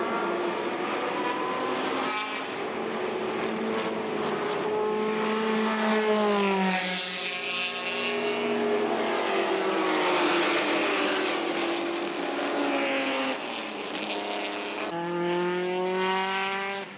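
Race cars at speed on the Watkins Glen circuit, engines wailing in long rising and falling pitch sweeps as cars pass one after another, loud and continuous for the whole stretch with no talk.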